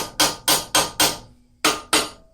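A blacksmith's hammer strikes a hot steel ram's head on an anvil, six sharp ringing blows in a steady rhythm with a short pause before the last two, close and loud with no talk.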